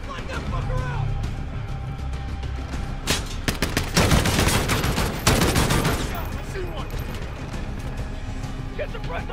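Machine gun fire in the Call of Duty Modern Warfare video game, a loud sustained burst of rapid automatic shots in the middle, with softer firing and shouted voices around it.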